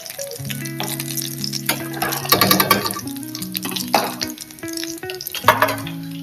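Food sautéed and stirred in a pan for a home cooking challenge, with steady sizzling and a spoon scraping and clattering against the pan in repeated bursts, close up and loud, no talking.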